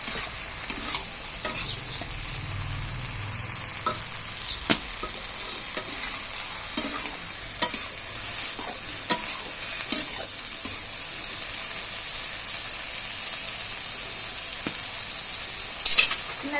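Food frying in oil in a pan is stirred repeatedly. Low sizzling runs throughout, with intermittent clacks and scrapes of a spatula at irregular intervals, close by and with no voices.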